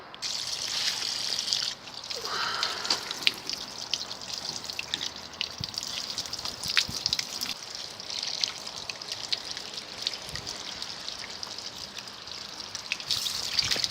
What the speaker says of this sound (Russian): сейчас возьмем шланг с водой и будем поливать вот сюда, в эту область